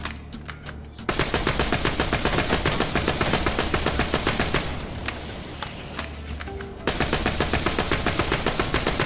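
Rapid bursts of elemental gunfire in Borderlands 2, loud and continuous automatic shots in quick rhythm, briefly easing mid-way before resuming at full intensity.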